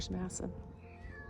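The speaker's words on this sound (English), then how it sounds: "And a kitty that wants out." A kitten meows twice in short, close calls, wanting to get out during car camping in a hybrid van, with a person speaking quietly over the end.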